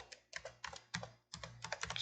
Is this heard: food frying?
no